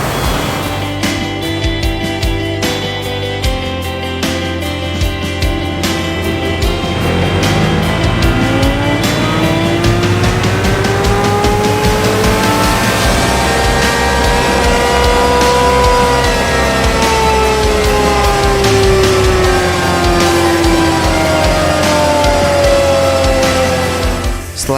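A bored-up Yamaha X-Max 300 scooter engine revs hard and steadily on a dynamometer, its pitch sweeping up and down through long sustained runs, loud and close with a constant mechanical roar.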